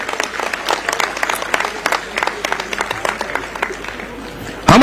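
Audience applause at a public inauguration event in Raigarh, a steady crowd clapping of many hands through the whole stretch with a voice over a loudspeaker, ending in a loud burst.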